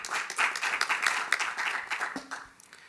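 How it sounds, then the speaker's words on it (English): An audience at a university convocation meeting claps in a brief, uneven burst of applause with distinct individual claps, tapering off toward the end. "Can we give them a round of applause again?"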